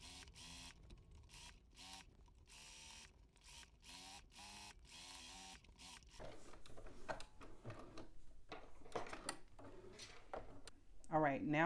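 A sewing machine runs a stretch stitch along the bottom edge of a knit garment in short, regular bursts of mechanical whirring and ticking, with quieter pauses between runs and rising clatter toward the end.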